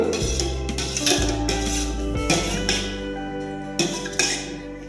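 A spoon stirs strained beetroot and ash gourd juice in a glass or vessel, giving repeated close metallic clinks and scrapes in an irregular rhythm, with no talking.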